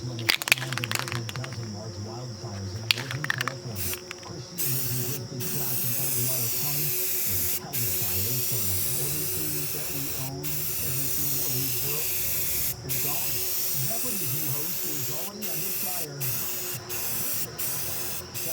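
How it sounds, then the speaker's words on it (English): Aerosol rattle can spraying paint onto a 1987 Romstar Time Soldiers arcade cabinet: a steady, close, bright hiss in long bursts broken by brief pauses, with a faint voice and low background hum underneath. "I don't have any paint or primer to mix up, so it's rattle can time"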